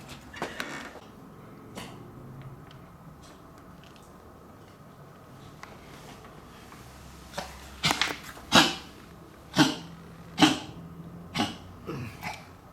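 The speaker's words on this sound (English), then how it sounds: "What are you coughing about" Several sharp coughs and throat-clearing bursts break out in a row near the end, close and fairly loud, following a stretch of quiet room noise with faint knocks and creaks from work on a concrete floor being converted to floorboards.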